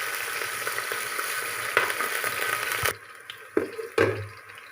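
Onions frying in hot ghee, with a steady broadband sizzle filling the first three seconds, then quieter intermittent crackles and a few stirring clatters close by.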